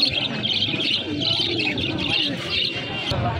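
Pigeons coo and chirp in a repeating pattern at a busy pigeon market in Bangladesh, close and clear, with people talking underneath.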